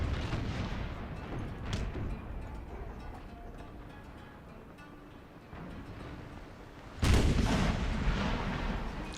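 Naval cannons from warships in the game Napoleon Total War boom in repeated heavy volleys, rumbling broadside fire with a loud fresh salvo erupting near the end.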